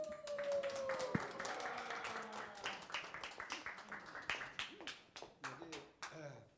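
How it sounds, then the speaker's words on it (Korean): A church audience claps in scattered, uneven rounds that thin into a few separate claps toward the end, with voices and a brief tone near the start. "자, 큰 박수로 맞이해 주세요."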